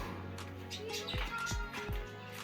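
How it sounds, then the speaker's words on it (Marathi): Several short bird chirps and tweets repeat at a moderate distance over a quiet outdoor background, with no talking. "पक्षी आहेत."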